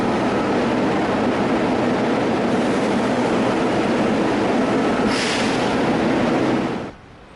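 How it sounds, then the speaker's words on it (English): Subway train in Rio de Janeiro rumbling steadily at close range, a dense continuous roar with a brighter hiss swelling near the end before the noise drops off sharply. "Take the subway. The same crowded, noisy, but convenient experience as in London,"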